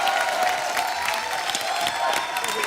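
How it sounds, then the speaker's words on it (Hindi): A studio audience at a Hindi comedy talk show welcomes a guest singer with sustained, dense applause and faint cheering that carries evenly throughout, with no one speaking over it. "तालियां बजती रहे।"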